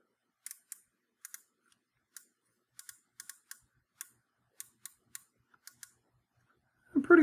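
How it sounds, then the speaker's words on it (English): Sharp, crisp clicks from the uncapped turrets of a Hawke Sidewinder ED rifle scope, heard close in an irregular series of single and paired clicks over silence, followed by a short louder rustle at the end. "And audible click on both of the uncapped turrets."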